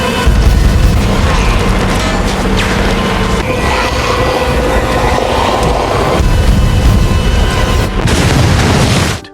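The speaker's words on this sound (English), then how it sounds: "The explosion of the RV served as a direction guide for the zombies" An RV exploding in a zombie battle scene: a loud, sustained roaring blast with dense rumbling noise that holds for several seconds before cutting off abruptly.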